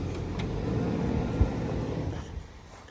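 A 1999 Chevy Suburban C1500 engine running with a low, steady rumble, a brief thump near the middle, then easing slightly toward the end. No voices.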